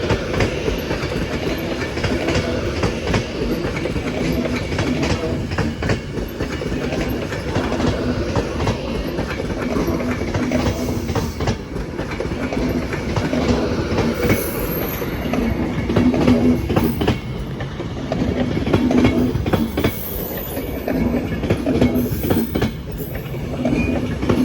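A Class 390 electric train passing through Crewe station on the West Coast Main Line, a steady loud rumble with rhythmic wheel clatter over rail joints throughout, no voices.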